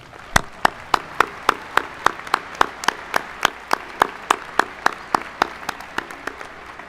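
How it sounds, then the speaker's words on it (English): A slow, steady series of single hand claps at a high school graduation ceremony, evenly spaced and sharp, about three per second, standing out clearly against a quiet room. "Let's give our staff a round of applause."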